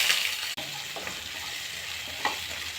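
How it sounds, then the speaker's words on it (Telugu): Green chilies and tempering seeds fry in hot oil in a pan for lady finger curry, a steady close sizzle with a couple of faint stir clicks and no talk. "2 స్పూన్లు ఆయిల్ వేసి ఆయిల్ వేడెక్కాక తాలింపు గింజలు వేసి"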